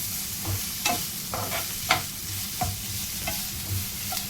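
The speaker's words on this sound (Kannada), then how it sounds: "ಈಗ ಇದಕ್ಕೆ ಚಿಕ್ಕದಾಗಿ ಕಟ್ ಮಾಡಿ ಇಟ್ಕೊಂಡಂತಹ ಆನಿಯನ್ ಹಾಕ್ತಾ ಇದ್ದೇನೆ. ಇದು ಸರಿ ಚೆನ್ನಾಗಿ ಫ್ರೈ ಆಗಬೇಕು." Finely chopped onions fry in a pan with cumin for a paneer gravy, giving a low sizzle with several scraping, clinking stirs of a spoon at a loose, irregular rhythm.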